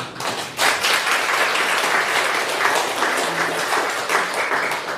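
A congregation at a Korean church worship service breaks into a loud, steady round of applause. The clapping swells quickly after a short pause and continues thickly throughout.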